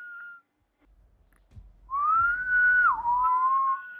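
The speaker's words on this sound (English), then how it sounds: "Whoever's whistling can't whistle." A person whistles a short wavering tune in Grand Theft Auto V: one brief note, a pause with soft thumps, then a longer sliding whistle with a downward dip, near and clear.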